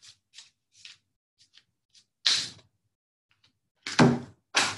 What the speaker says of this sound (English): Just shuffling through the cards.